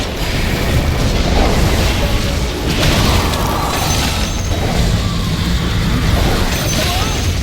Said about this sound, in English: The enemy top tower got destroyed!